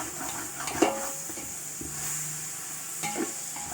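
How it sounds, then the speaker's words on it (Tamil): Mutton pieces coated in turmeric sauté in a pot for biryani, giving a steady soft sizzle with a few scraping stirs of a spoon, close and moderately loud, with no talking. "நல்லா வதக்கிக்கலாம்."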